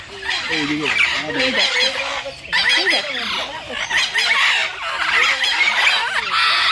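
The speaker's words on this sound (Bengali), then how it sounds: "আর এই হচ্ছে আমাদের Mexican red headed Amazon parrot." Several birds squawk and cluck in repeated harsh calls at the Alipore zoological garden in Kolkata, with a Mexican red-headed Amazon parrot among them, loud and close, while people talk underneath.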